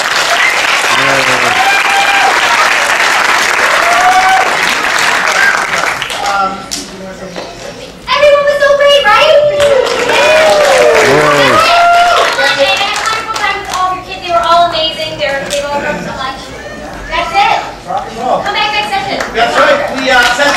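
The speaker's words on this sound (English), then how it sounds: "let's give you a round of applause" An audience in a theater claps through a Joseph and the Amazing Technicolor Dreamcoat performance with dense, sustained applause, while a voice speaks over it partway through and the clapping thins into scattered hands near the end.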